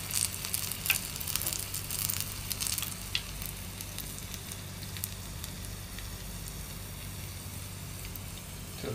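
Papad batter is spooned in small portions into hot oil and crackles with a dense, continuous sizzle full of sharp pops, close and fairly loud, with no voices.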